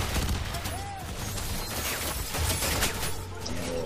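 Rockets fired by a large robot in the first-person shooter FEAR 3 blast through dense, continuous gunfire and crashing explosions, loud and chaotic, with faint voices barely audible underneath the steady barrage.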